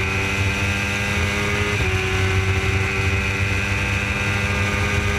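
Formula Gulf 1000 race cars on a circuit's back straight, a loud, steady high-revving engine drone with sustained tonal harmonics and a slight pitch shift as a car passes, continuous throughout with no talk.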